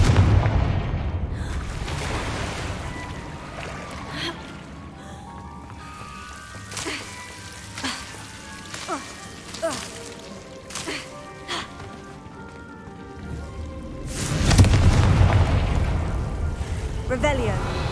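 Confringo blasting spells in a fantasy video game go off as loud bursting booms at the start and again near the end, with game music and scattered effects ringing between them.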